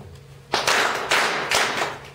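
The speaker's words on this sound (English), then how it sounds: "3 claps." Three crisp hand claps from a group sharing session, evenly spaced roughly half a second apart, loud and near with brief ringing tails.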